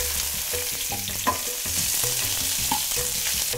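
Onions and garlic fry in a hot pan with a continuous close sizzle, punctuated by utensil clicks and scrapes as they are stirred.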